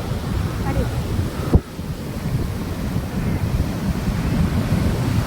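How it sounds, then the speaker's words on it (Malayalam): Ocean surf roars and washes continuously on Azhikkal beach while gusty wind buffets the microphone. A brief thump sounds partway through. "വീണ്ടും കടലിൽ കയറ്റം തുടങ്ങിയിട്ടുണ്ട് കണ്ടോ"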